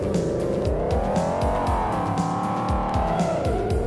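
Cartoonish racing cars in the PC game Micro Pico Racers drift continuously with sustained tire squeal and engine whine, loud and steady, with pitch sweeping up and down through repeated slides and no talking.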